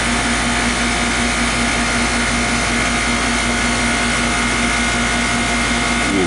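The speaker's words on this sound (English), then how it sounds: "You can hear the compressor's sound change as it takes the charge." A home R22 air conditioner compressor being charged with R422D refrigerant runs with a steady, loud mechanical hum and whine, continuous throughout without talk.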